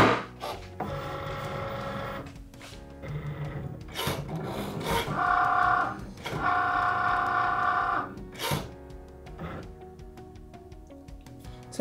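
A Cricut cutting machine scores paper for a heart-shaped gift box, giving steady mechanical whirring and rasping carriage movement with intermittent clicks and tonal motor passes, close and continuous with no talk.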